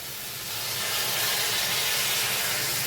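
Water poured into a pan of frying beetroot for a Bengali beetroot curry sets off a loud, steady broadband steam hiss that swells in the first second and then holds evenly, with no talking.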